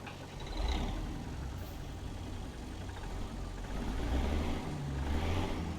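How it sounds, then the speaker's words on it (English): Idling truck engine, a Caterpillar 3406B rated at 425 horsepower in American Truck Simulator, a steady low rumble heard with the windows down, swelling slightly as the revs rise, with no talk. "let's go ahead and get these windows down so we can hear this engine"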